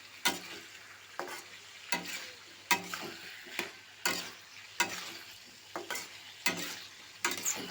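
Vegetables for a Bengali mixed-vegetable dish are stirred in a pot: rhythmic scraping strokes come roughly every second over a soft, steady sizzle, close and fairly quiet, with no voices.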